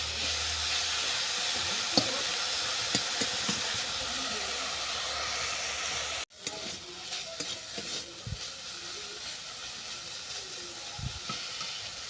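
Moringa flowers frying in a pan with salt and turmeric, a continuous sizzling hiss with scattered stirring scrapes, briefly cut off midway before the frying and spatula knocks resume, fainter and more intermittent.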